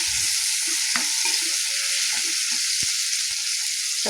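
Mango pieces fry in oil while being stirred, a bright constant sizzle close up with scattered knocks and scrapes of the spoon against the pan.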